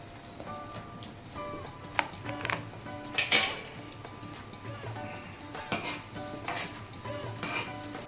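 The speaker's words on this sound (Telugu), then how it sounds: "ముందుగా మనం ముందుగా కాజుని ఫ్రై చేసుకుందాం" Cashews fry in a pan for dry-fruit sheer khurma while a spoon stirs them, giving soft scraping and scattered clinks of metal over a steady low sizzle.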